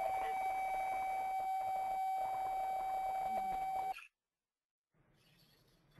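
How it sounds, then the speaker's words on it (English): A long, steady electronic beep rings in the background for about four seconds, then cuts off abruptly, leaving near silence before faint room noise returns. "I'm hearing sound in the background. Do you hear that long"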